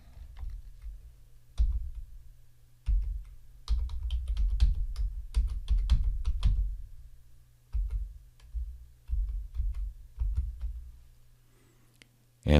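Someone types a password on a computer keyboard, with bursts of close, crisp keystrokes separated by short pauses and a steady low hum underneath.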